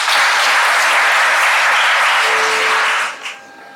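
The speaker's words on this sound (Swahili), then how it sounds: "Apigiwe makofi." A wedding crowd bursts into loud, sustained applause during the vows, clapping steadily for about three seconds before it quickly dies away.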